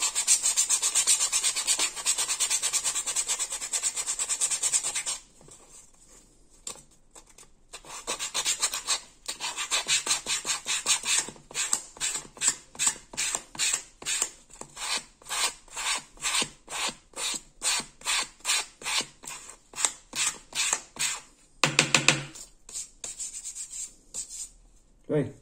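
Hand sanding a leather strop with sandpaper: a steady scratchy rasp at first, a brief pause, then a long run of quick rhythmic back-and-forth strokes, close and loud.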